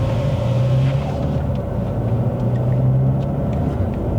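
A Mercedes-AMG GLA35 with a dual-clutch transmission drives on the road and shifts up through its gears. Engine rumble and road noise fill the cabin in a steady, loud drone, with slight changes in pitch at the shifts.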